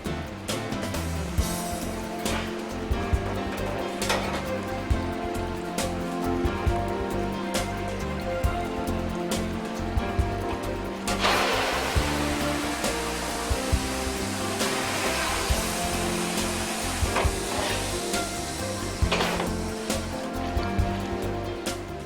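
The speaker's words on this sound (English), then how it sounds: "The dyer then steps on a pedal to start up a vacuum compressor" A pedal-started vacuum compressor draws liquid dye down through a stacked pile of cotton tenugui cloth, a steady loud whooshing roar with a droning hum that swells partway through, under background music.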